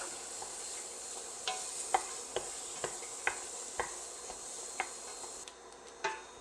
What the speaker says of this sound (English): we're just going to stir these in the roux